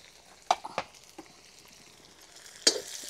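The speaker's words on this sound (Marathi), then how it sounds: "छानपैकी परतून घ्यायचे" Bay leaf, cinnamon, sliced onion and green chili sauté in a pan for a cabbage-potato dish, a faint low sizzle broken by a few sharp scraping stirs and clinks of the spoon.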